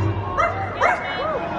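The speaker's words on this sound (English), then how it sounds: "Where is that dog?" Small dog yipping and whimpering in a few short, close bursts at a Halloween party event, with a voice talking alongside.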